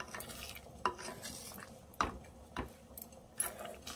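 A spoon stirs chopped coriander into baingan masala in a pan, with soft scraping and several sharp metallic knocks against the pan at an uneven rhythm over a faint sizzle.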